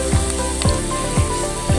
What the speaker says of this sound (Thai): เดี๋ยวจะมาทอดปลาตะเพียนต่อ